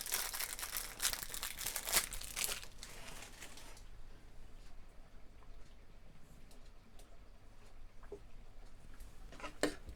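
A plastic parts bag from a Darth Vader model kit is crinkled and opened close by, with dense rustling and crackling for the first few seconds, then a few soft scattered crinkles and no voices.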